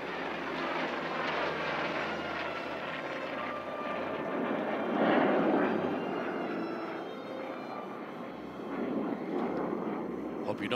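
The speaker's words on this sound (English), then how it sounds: "Overhead, the F4U Corsair, the F/A-18 Super Hornet." Propeller-driven F4U Corsair and F/A-18 Super Hornet jet pass overhead together at a SUN n FUN air show, tail hooks extended. A broad, continuous engine roar swells to a peak midway, then eases and rises again, with crowd noise and voices underneath.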